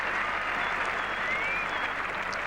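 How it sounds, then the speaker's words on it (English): Steady applause from a cricket test match crowd, England v Australia at Edgbaston in 1981, greeting a four by Graham Gooch; dense and continuous clapping from a distant crowd throughout. "Great applause."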